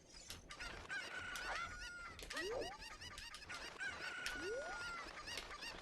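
Fowl calls from the chickens in The Legend of Zelda: Ocarina of Time on the N64, with repeated clucks and a few rising squawks over steady game ambience and no voices.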